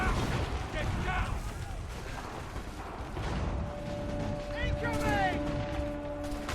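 Bursts of gunfire from a battle in Assassin's Creed 3, crackling in steady volleys under shouted game dialogue and a sustained tonal hum, with voices urging cover.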